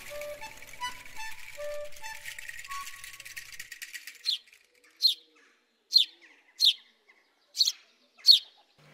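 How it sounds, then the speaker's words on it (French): House sparrow chirping, a series of six sharp, evenly spaced chirps that stand alone and fairly close. Softer bird calls and faint coos come before them. "C'est bien sûr le moineau domestique"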